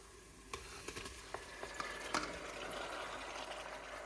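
Two kilograms of boneless beef cooking in a pot, hissing with a steady soft sizzle broken by occasional clinks of a spoon stirring, faint and close.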